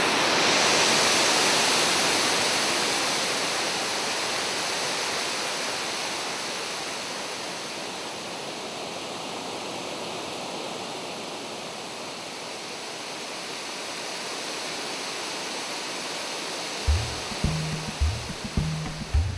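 Waterfall rushing in a steady, loud broadband roar that fades slightly then holds, with a few brief low thumps near the end.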